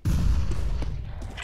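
A grenade detonating in the video game Counter-Strike: Global Offensive, a single heavy low boom that hits at once and then rumbles off over a second with nothing else heard.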